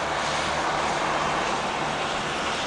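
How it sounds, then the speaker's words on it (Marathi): A tractor engine passes through a village, heard as a steady, moderately loud broadband roar with a low hum beneath that holds even throughout, with no voices. "ट्रॅक्टरचा आवाज गावात हा येणार."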